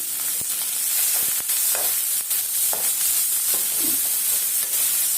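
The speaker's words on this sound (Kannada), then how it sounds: "ಇಲ್ಲಿ ನಾನು ಎರಡು ಈರುಳ್ಳಿ ಸಣ್ಣ ಕಟ್ ಮಾಡಿ ಇಟ್ಕೊಂಡಿದ್ದೀನಿ ಅದನ್ನ ಸೇರಿಸ್ತಾ ಇದ್ದೀನಿ" Two finely chopped onions fry in a hot pan for a leafy greens palya, giving a continuous bright sizzle and hiss broken by scraping clicks from stirring.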